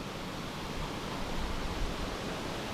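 Kailasam waterfall in Tamil Nadu roars with a dense, continuous rush of falling water over rocks, loud and steady with no voices over it.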